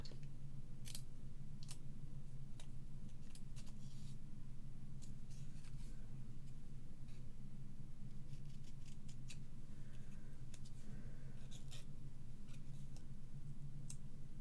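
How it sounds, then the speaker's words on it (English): Small scissors trim paper in short, irregular clicks, close and fairly quiet over a steady low background hum. "Don't like to pull them really, but just going to give that another little trim."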